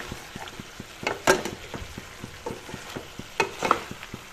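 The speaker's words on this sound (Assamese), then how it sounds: "এনেদৰে তল ওপৰ কৰি লৰাই দিছোঁ।" Chicken pieces are stirred and turned over in a pan for a chicken and brinjal curry, with a soft sizzle beneath repeated scraping and clacking of a spoon against the pan in uneven strokes.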